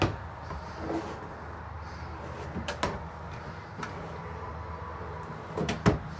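Drawers in a horse trailer's living quarters sliding and bumping shut, a few faint scattered knocks and thuds over a quiet room hum.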